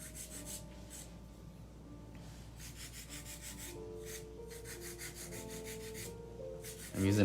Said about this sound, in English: I'm using a 100 grit filer, by the way.